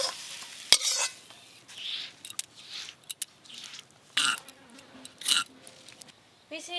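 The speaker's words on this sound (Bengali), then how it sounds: "পটলের দোরমার জন্য পটলের পুরটা একদম রেডি হয়ে গেছে," Potol dolma stuffing stirred in a pan, with brief clattering scrapes of a spoon against metal and soft sizzling between them, close and intermittent.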